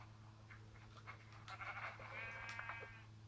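A sheep bleats in a video game, with a few wavering, nasal cries at moderate distance over a steady low hum and faint background clicks, fairly quiet overall.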